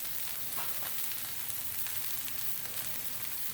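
Salmon with greasy skin frying on a Blackstone griddle, giving a steady, even sizzle with fine crackle throughout, moderately close and without talk.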